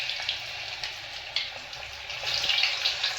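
Potato chips frying in hot oil give off a steady, bright sizzling hiss with scattered pops, swelling louder toward the end.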